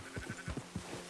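Short, faint bleats from a sheep in the game Red Dead Redemption 2, a quick rhythmic series of low wavering calls heard alone, close but quiet.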